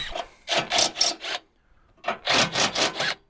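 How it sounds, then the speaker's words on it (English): Filing to bevel edges during a Club Car DS golf cart trailer hitch install, two bursts of rhythmic rasping strokes, about four each, close and clear. "just bevel those out a little and get rid of the extras"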